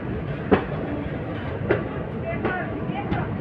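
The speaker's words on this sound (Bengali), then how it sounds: "ওই যে উত্তরবঙ্গ এক্সপ্রেস" The Uttarbanga Express rolls past with a steady rail rumble and spaced, rhythmic clacks of its wheels over rail joints, heard from a nearby train with voices in the background.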